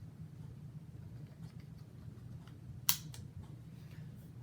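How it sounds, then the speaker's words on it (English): Magazine clicked into a .22 rifle as a single sharp metallic snap partway through, close and clean against a quiet low hum. "you're going to insert the clip"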